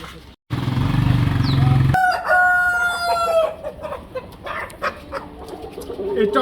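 A tiger chicken rooster crows loud and close, one long drawn-out cock-a-doodle-doo after a short burst of low noise, followed by softer clucks and bird calls in the background.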